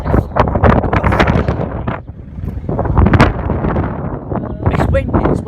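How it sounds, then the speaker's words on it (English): Strong gusts at a railway level crossing buffet the microphone and rattle the barriers, a loud, rough, surging roar in uneven bursts close by, with people talking over it. "It's windy as well, so bloody blowing the barriers."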